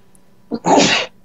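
A single sharp human sneeze, close and loud, with a short intake just before it.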